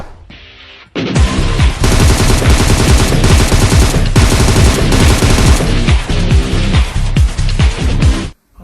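Sustained automatic fire from an M762 rifle in a shooting video game, loud and continuous bursts running almost the full length after a brief quieter start, with short gaps between volleys.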